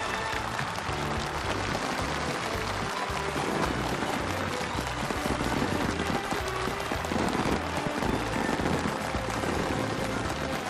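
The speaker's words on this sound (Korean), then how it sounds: "새 공장의 주인들이 열렬한 박수갈채를 받으며" Crowd at a new factory's opening ceremony giving enthusiastic applause, a dense, continuous roar of clapping with no pauses.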